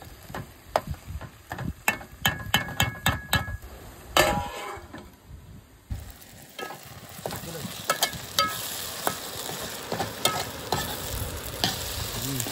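Tomatoes and onions sautéing in a pan, a constant sizzle overlaid with rapid, repeated spatula taps and scrapes against the pan, clattering rhythmically up close, with no one speaking.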